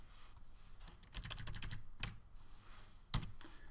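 Fingers type on a computer keyboard during website editing, quick bursts of close, crisp key clicks with short pauses between them and a sharper tap near the end.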